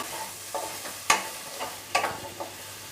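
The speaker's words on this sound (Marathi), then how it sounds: "त्यानंतर ही रताळी आहेत ना ती सुद्धा परतून घेऊया" Sweet potato pieces sautéing in a pan for a fasting-style pulao, with a steady soft sizzle broken by several close scrapes and stirring clatters of a spoon against the pan; no voices.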